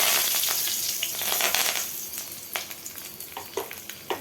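Curry leaves crackle and sizzle in hot oil with popping mustard seeds and asafoetida for a brinjal kulambu, a bright dense hiss with sharp little pops that grow more frequent toward the end, close and loud with no talking.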